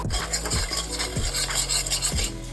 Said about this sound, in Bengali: সমস্ত মশলাকে খুব ভালো করে একসাথে কষে নেব